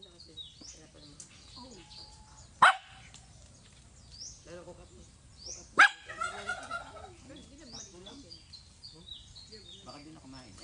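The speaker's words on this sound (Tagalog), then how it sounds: "Nagagalit na yung aso." A dog gives two sharp, loud barks a few seconds apart, with birds chirping in the background and people talking quietly nearby.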